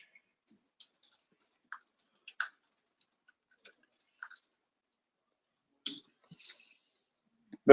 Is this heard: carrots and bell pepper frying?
no